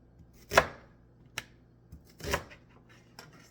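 Knife chopping purple onions on a board, two firm blows followed by a few lighter taps, close and clear with no talk.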